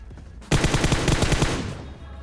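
Automatic M4 rifle fire in PUBG Mobile, a single loud sustained burst of rapid, evenly spaced shots lasting over a second, alone without talk.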